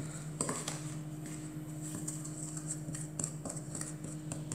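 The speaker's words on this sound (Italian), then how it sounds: "e mescoliamo" A spoon scrapes and taps against a bowl as grated lemon zest and sugar are stirred together, a quiet, irregular series of clinks and light scraping with a steady low hum behind it.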